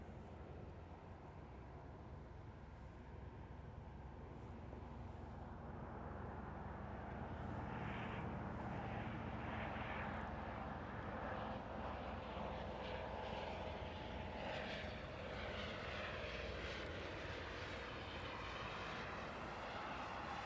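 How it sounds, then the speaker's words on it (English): An ANA Boeing 787 Dreamliner airliner arriving from Tokyo lands at Honolulu on runway 8 left, its jet engine roar building steadily from a distant rumble to a broad, sustained noise. "Looks like the next arrival on 8 left will be our 3rd ANA of the day. This will be a Dreamliner though."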